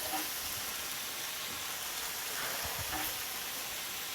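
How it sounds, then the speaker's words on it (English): Bacon frying in a pan gives a steady, soft sizzling hiss with occasional faint pops scattered through it, fairly quiet and with no talking. "this bacon is popping"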